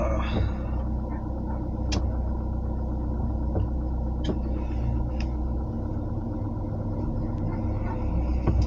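Maruti Gypsy stuck on a snowy mountain road near Hamta Pass, its engine a steady low rumble that stays even throughout, with a few faint clicks and knocks over it.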